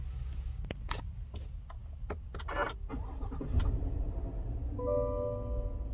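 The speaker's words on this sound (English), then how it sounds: "Depress the brake pedal and push the button to start the vehicle." A 2021 Chevrolet Tahoe High Country started by push button with the brake pressed: a few small clicks and ticks inside the cabin, then the engine catches into a low, steady idle hum.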